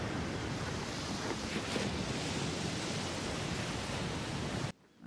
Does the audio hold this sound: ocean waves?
yes